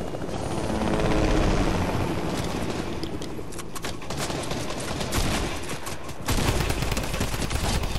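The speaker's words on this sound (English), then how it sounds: "Right, I'm going back to the chopper." A video game helicopter roars loud and close throughout, its rotor thrum and engine whine steady, with bursts of rapid gunfire crackling over it in places.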